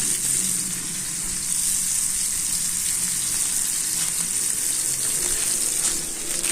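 Burger patties fry in a small amount of oil on a grill pan, giving a steady, close, continuous sizzle and crackle with no break and no talking.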